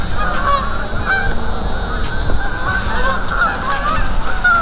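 A large flock of geese honks nonstop in a dense, overlapping chorus that fills the whole stretch, some calls near and loud and others farther off, with no speech over them.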